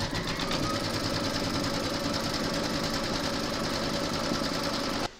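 An embroidery machine stitches the placement outline for a large appliqué parrot, a close, steady rapid clatter that runs without a break and stops abruptly just before the end.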